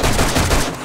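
A gun fires in the zombie survival game 7 Days to Die: a brief, loud, close burst of rapid shots that cuts off within a second.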